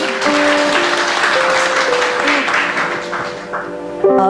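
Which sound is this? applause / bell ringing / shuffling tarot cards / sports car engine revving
applause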